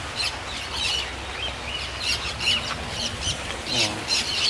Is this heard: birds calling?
yes